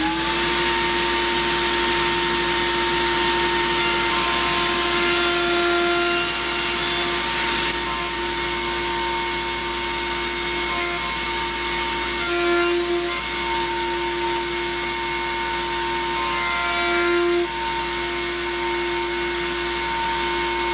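A router with a 5/8 pattern bit trims the corners of a wooden case, giving a loud, steady whine with a few short dips as the cut moves around.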